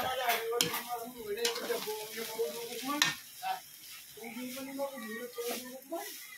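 Shrimp sizzling and frying in a pan while being stirred, steady crackle with scraping utensil strokes throughout, a voice talking over it.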